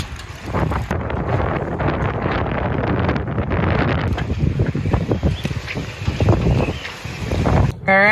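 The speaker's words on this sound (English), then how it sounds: "What is the wind doing? Blowing. Okay. Whistling, blowing, tipping the boat sideways." Strong gusty wind roars and buffets close to the microphone aboard a sailboat, rising and falling continuously, with a brief high whistle near the end.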